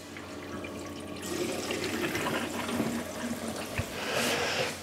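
Water rushes steadily as a second circulation circuit is switched on in an aquarium fitted with an AquaMedic drain, a continuous splashing flow that swells louder partway through.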